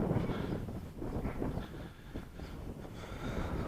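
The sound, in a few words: strong wind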